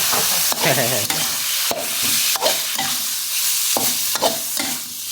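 Pork belly stir-fries with red curry paste in a pan, a loud, close sizzle cut by regular scraping strokes of a spatula about once every second, with no talking.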